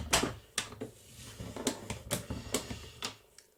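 Paper being folded lengthwise at a marked crease for a Valentine's craft project, a series of short crisp creasing taps and paper rustles spaced irregularly, close and fairly quiet.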